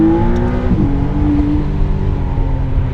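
A McLaren Artura sports car engine drones and pulls as it accelerates, its pitch shifting briefly with a gear change before settling into a steady hum.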